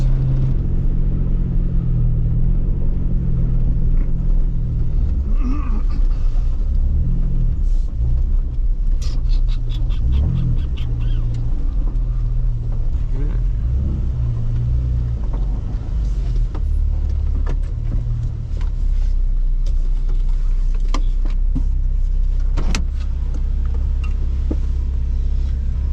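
A Jeep Wrangler LJ heads up a muddy mountain trail toward a truck stuck in the mud. Its engine drones steadily and loudly with low rumbling, while small clicks and rattles come from the cab.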